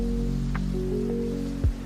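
Steady rain falling at night, a continuous soft patter with a low constant hum beneath it and one brief louder thump near the end, no voices present.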